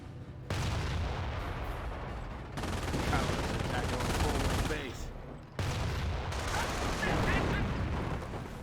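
Sustained gunfire crackles through a Company of Heroes 1 battle against Panzer Grenadiers, dense and continuous across several bursts, mixed with battlefield rumble and a voice talking over it.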